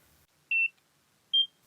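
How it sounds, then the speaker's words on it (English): Two short, high-pitched electronic beeps from a NIRA laser skincare device on skin contact, evenly spaced about a second apart, clean against near silence. "So when you do have skin contact, it beeps"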